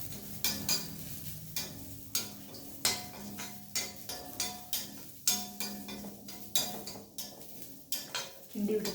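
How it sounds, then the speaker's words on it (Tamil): Onion and ginger frying in a pan for a Tamil prawn thogayal, with a soft sizzle under repeated sharp scrapes and clinks of a spoon stirring against the metal pan in a steady rhythm. "இப்போ இது நல்லா வறுக்கட்டும்."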